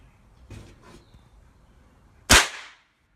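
An F4 airgun BB rifle fitted with a moderator fires a single sharp, loud crack near the end, preceded by faint handling clicks and quiet rustling close by.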